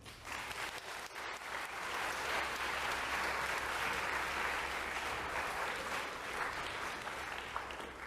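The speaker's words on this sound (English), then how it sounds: "Can we get a round of applause for our winners?" Lecture hall audience applauds winners, a sustained dense burst of clapping that swells and holds for several seconds before easing off, with no talk over it.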